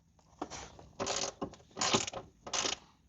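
An E12 socket turning out rusty seat bolts from a flood-damaged Mercedes CLK500 W209, producing four short grinding, ratcheting bursts close by and fairly faint, with no talk.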